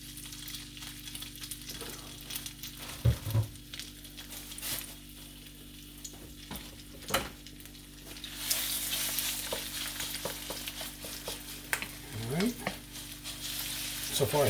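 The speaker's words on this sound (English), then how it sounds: "I'm going to throw in the chicken and we're going to roll them around a while until they're cooked" Chicken pieces fry in a hot pan, with a steady sizzle and crackle throughout, occasional sharper spatters and pops, and brief stirring knocks as the pieces are moved around.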